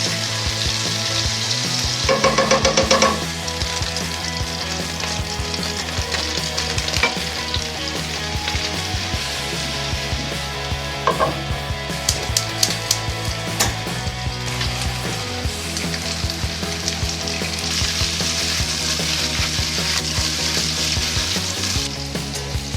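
Meatballs frying in butter in a big frying pan, a steady, loud sizzle running throughout with occasional stirring and scraping, close up and with no talk.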